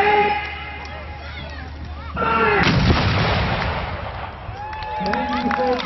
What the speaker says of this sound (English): Those batteries, fire in my section! Ready? Fire!